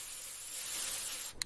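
An air freshener sprays in one quiet, sustained hiss that fades out at the end, with a short bright click or chime right after it.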